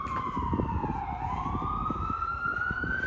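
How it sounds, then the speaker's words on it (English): An ambulance siren wails loud and close as it passes along a New York City street near Central Park, its pitch falling then rising again in a steady sweep over rumbling traffic. "Oh, ambulance."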